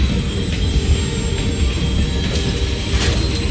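A train running in the Tomb Raider Legend video game, a continuous loud low rumble and rattle of wagons with faint metallic squeals on top, steady and close with no talking.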